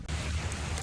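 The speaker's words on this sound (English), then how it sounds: "It's raining and it's cold." Cold rain falling outdoors, a steady, even hiss of drops on surfaces, close and continuous with no voices.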